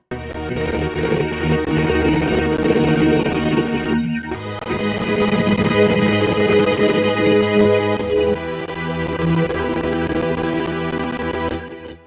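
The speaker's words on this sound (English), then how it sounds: "another strings." A string section swells in sustained, layered chords that play continuously and fairly loud, with a short break around the four-second mark before the lush tones resume and carry on to the end.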